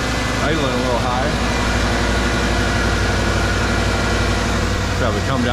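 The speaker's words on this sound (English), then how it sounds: "Idling a little high." A 1990 Ford F150 with a 5.0 V8 idles slightly high after a jump start, a steady close engine drone with a low rumble running throughout while a voice talks over it now and then.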